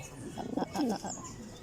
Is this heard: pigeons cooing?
yes